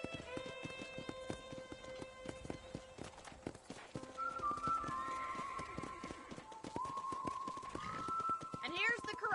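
Horses in a ranch corral in the video game Red Dead Redemption clop their hooves and give a whinny, mixed with game music tones and a voice talking.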